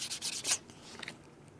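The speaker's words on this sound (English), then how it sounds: "you're sanding on the ends here, you're rotating it around and sanding it" Short sanding strokes rub across the corners of a leather wrist cuff edge, a few quick soft scratchy passes followed by quieter rubbing, close and faint.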